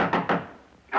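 Knocking on a door, heard as three firm, close, hollow thunks in uneven succession within about a second, with a quiet gap before the last.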